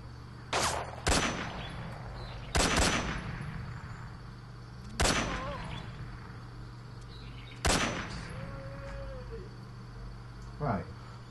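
Gunfire in the stealth video game Metal Gear Solid 3: Snake Eater, five sharp, loud shots fired at irregular intervals with short decaying tails, and a few faint chirping tones between them.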